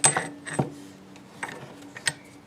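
A Garmin Zumo XT mount ball being bolted onto a back plate: small metallic clicks, taps and scrapes of hardware handled up close, irregular and fairly quiet.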